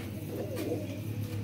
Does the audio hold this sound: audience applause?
no